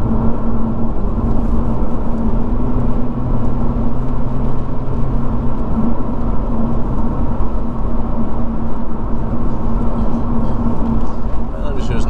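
A Lotus Evora drives along a fast, flowing English road, its engine drone and road roar filling the cabin steadily and loudly throughout, without noticeable pauses.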